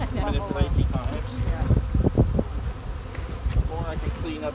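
Honey bees buzz around an opened hive during beekeeping, a steady hum close to the microphone with wind noise and a voice talking over parts of it.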